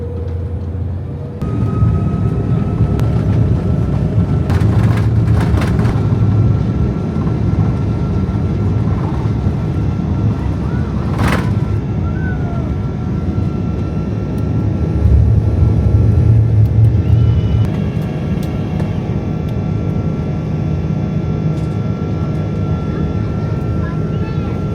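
A Cathay Pacific Airbus A330 jet takes off from the runway at Changi Airport, Singapore, its engines building to a steady, loud roar heard from inside the cabin, with a broad rumble continuing throughout.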